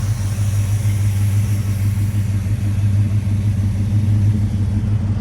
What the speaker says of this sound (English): Borla exhaust, stainless steel Borla mufflers. Competition race mufflers.